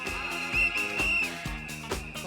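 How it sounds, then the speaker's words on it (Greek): A shrill whistle sounds in a couple of short blasts over a rhythmic musical backing at a carnival parade in Agios Nikolaos. "θα μου ρίξει ένα σφύριγμα"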